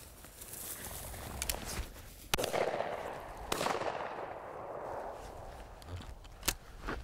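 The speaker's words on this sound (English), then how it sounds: "I don't know if we shot the same one, but I shot that one and that one, and you shot him, that one too?" Shotgun shots during a quail hunt on a North Carolina farm: a few sharp blasts spaced apart over steady outdoor background noise, heard from a moderate distance with no talk.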